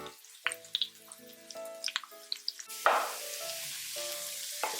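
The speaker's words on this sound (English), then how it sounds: "I'm going to saute it until it is golden brown" Chopped onion sautés in hot oil with fresh curry leaves and green chilies, a soft sizzle with scattered stirring clinks that swells into a louder, steady frying hiss.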